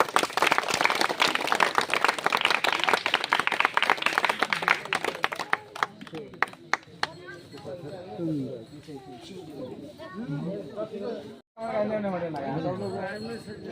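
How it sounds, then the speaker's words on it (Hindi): Crowd at a village political gathering clapping hands, dense applause for the first several seconds that thins into scattered claps, then gives way to talking and chatter. "ताली बजाइए।"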